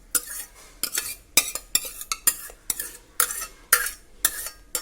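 Cooked horse gram stirred in a pan with a metal spoon, rhythmic scraping strokes about once a second, close and fairly loud, with no talking.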